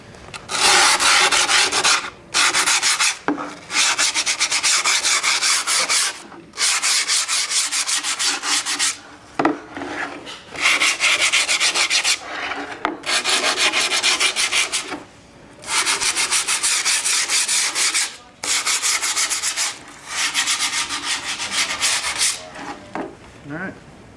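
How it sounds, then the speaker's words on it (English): Sandpaper rubs along the edges of skateboard grip tape on a wooden deck in repeated long, loud strokes, each lasting one to two seconds and separated by short pauses, close up with no talking. "just kind of sand around the sides to keep the grip tape from peeling up"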